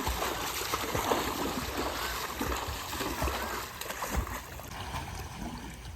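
Sea water at Kapu beach splashes and washes in a steady, close rush, with faint voices now and then beneath the spray.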